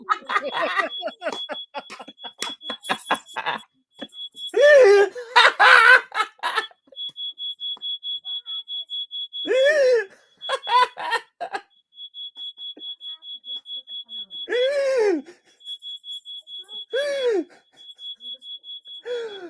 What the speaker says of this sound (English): Did that set off the fire alarm as well?